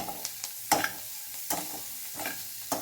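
Boiled cauliflower and cabbage sautéing in a pan for veg fried rice, a soft steady sizzle broken by a few sharp clanks and scrapes of a spatula against the pan, close by with no talking.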